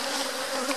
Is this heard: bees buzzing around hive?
yes